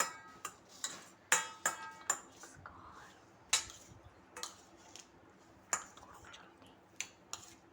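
A spoon clinks and scrapes against a bowl while veg corn chaat is stirred together, giving a series of sharp metallic taps at an irregular rhythm, close and fairly quiet, with no talking.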